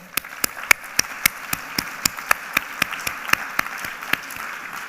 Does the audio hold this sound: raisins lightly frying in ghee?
no